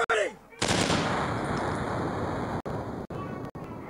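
Sustained, loud machine gun fire in a shooter video game with a helicopter target, a long continuous burst broken into several short bursts near the end, following a brief game voice at the start.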